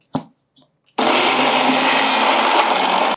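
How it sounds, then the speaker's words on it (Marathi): After a couple of faint taps, a mixer grinder whirs on loudly and runs steadily at high speed, grinding dry mixed lentils without water. "आता याच प्रकारे सगळी डाळ मिक्सरला मी फिरवून घेते."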